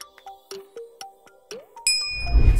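Bright bell-like notification dings in a short sequence of rising pitched chimes, ending in a louder shimmering ring over a burst of noise.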